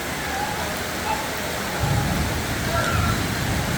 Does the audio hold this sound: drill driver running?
no